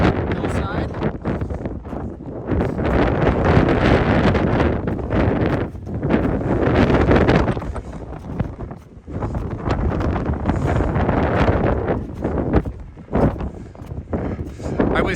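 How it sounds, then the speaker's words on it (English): Strong gusts buffet the microphone in a constant loud roar on a winter snow hike on Mount Hood, with brief lulls and rustling throughout. "It is getting very windy here"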